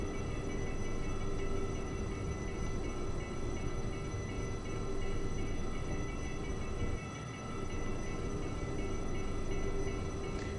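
A train runs on the Bernina Line from Tirano to Poschiavo in Train Simulator 2020, a steady loud rumble and rattle of wheels and wagons that dips briefly partway through, with no talking.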